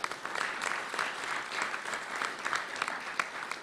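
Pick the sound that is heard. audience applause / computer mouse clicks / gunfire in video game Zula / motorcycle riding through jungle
audience applause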